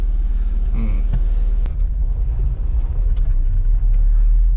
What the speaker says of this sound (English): So let's go for a quick drive.